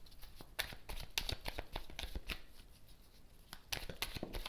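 Tarot cards riffle and slap in a quick run of crisp shuffles, then slide as they are drawn, close and fairly quiet with no talking.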